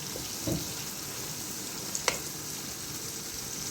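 Karela, onion and lamb curry gets stirred in an oiled pan, a soft continuous sizzle with a couple of faint scraping clicks from the spoon.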